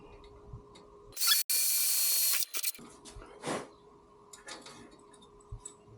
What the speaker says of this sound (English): make sure this is straight, and you're just going to drill.